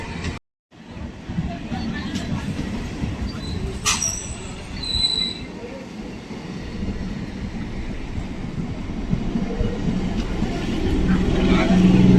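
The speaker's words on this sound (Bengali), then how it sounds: "34312 সোনারপুর বারুইপুর লোকাল সোনারপুর স্টেশনে 2 নম্বর প্ল্যাটফর্মে প্রবেশ করছে।" The Sonarpur–Baruipur local train pulls into platform 2 at Sonarpur station, its rumble and wheel squeal swelling as it draws near. People talk over the noise, and a few brief sharp squeals cut through.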